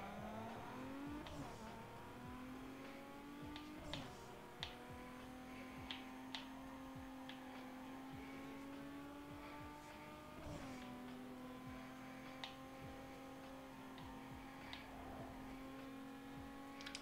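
Car engine in Need for Speed: Underground 2 revving up through the gears with a few gear changes, steady and fairly quiet, with small clicks and ticks scattered over the drone and no voices.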